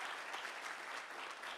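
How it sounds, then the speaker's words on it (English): Conference audience applauding Dr. Gore at the CUNY BMI Conference, a steady wash of clapping hands from a sizable crowd that fills the whole moment without pause. "Can we give Dr. Gore another round of applause?"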